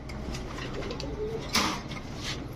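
Magpie pigeons coo softly nearby in a short stretch, with a faint rustle behind them.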